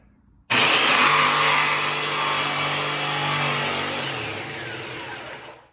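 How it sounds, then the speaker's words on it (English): A jigsaw with a fresh blade cuts out an opening in a square drop camper wall panel, starting abruptly with a loud, steady buzzing rasp that slowly softens before stopping. "got a nice fresh blade in the jigsaw. Let's go ahead and cut this out."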